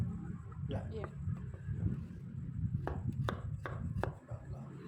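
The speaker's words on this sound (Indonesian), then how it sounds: "Wortel setengah buah cukup. Diiris-iris seperti" A knife slices half a carrot into thin sticks on a cutting board. Quick, crisp cuts tap out several times beneath steady talk from a nearby speaker.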